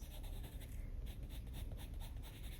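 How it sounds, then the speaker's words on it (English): Close, steady scratching of a Polychromos colored pencil on paper in quick, repeated back-and-forth shading strokes, soft and continuous. "I'm mapping out the colors with this pencil"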